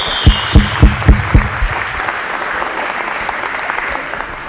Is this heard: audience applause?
yes